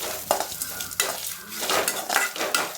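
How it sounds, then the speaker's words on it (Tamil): Grated coconut dry roasting in a pan over a medium flame with no oil, with soft sizzling and repeated scraping strokes of a spatula stirring against the pan, close and steady. "எண்ணெய் எதுவும் சேர்க்காமல் ட்ரையாக தான் வறுக்கணும்."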